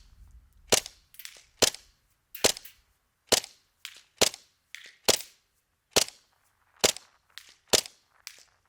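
An airsoft gun fires a steady series of about a dozen sharp, crisp shots, evenly spaced and close by, with no talking.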